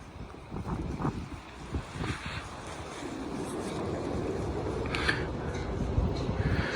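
Strong wind buffets the microphone at Ashtabula Harbor on Lake Erie, a loud continuous low rumble with gusty bursts and faint splashing or clatter, no talking.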